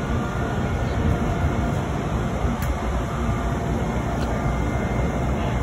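An Amtrak Silver Star train idles loudly at a major station stop in Washington, D.C., with a steady broadband rumble and hiss, a couple of brief clanks cutting through near the middle and end.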